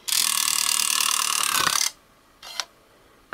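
A Wii with a faulty disc loading mechanism grinds out a loud ratcheting buzz for nearly two seconds, then a short second rattle and a final click, close up with no voices.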